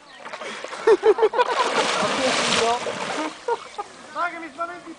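A person splashes into lake water with a broad, churning burst of splashing in the middle, while voices talk and call out before and after it.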